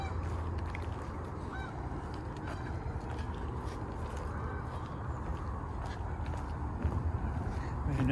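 Geese honk repeatedly near an outdoor walking trail at a healthcare institute, a steady noisy chorus of calls carrying over outdoor ambience, with a voice briefly audible.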